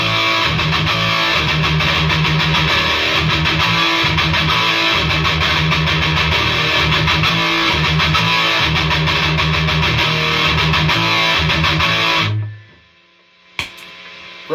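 A distorted electric guitar plays chugging riffs through a regular Marshall amp, loud and continuous, then cuts off into near silence with a brief click near the end.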